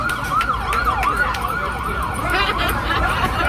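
A wailing ambulance siren sweeps up and down in a fast, repeating warble, loud and close, over a rumble of traffic and crowd noise at a New York City street block party.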